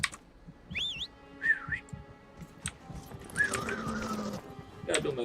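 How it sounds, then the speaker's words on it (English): Short, bright whistled calls from a character in the Dragon Age role-playing game: a quick rising-and-falling trill near the start, another brief whistle soon after, then a fainter one amid busy game sound effects. "Gotta do my whistle better next time."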